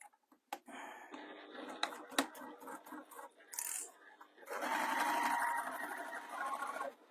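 Domestic sewing machine stitching through a faux leather bag, short bursts of whirring at first, then a longer steady run of stitching toward the end, close and fairly quiet.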